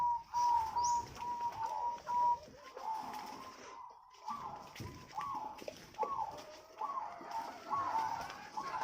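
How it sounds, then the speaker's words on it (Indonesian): A silver zebra dove (perkutut) on a bird farm coos repeatedly, a series of soft, rhythmic rolling coo phrases at moderate distance over quiet background noise, with faint chirps from other birds. "Ini perkutut silver."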